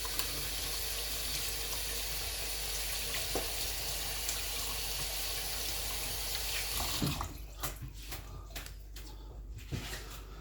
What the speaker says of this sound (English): So I'll just wash my hands.